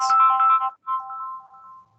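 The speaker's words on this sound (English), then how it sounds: "Sorry, someone's phone's going off." A mobile phone ringtone goes off during an online career webinar, a bright electronic melody of repeating tones that plays loudly, breaks briefly, then resumes as a sustained tone, with no talking over it.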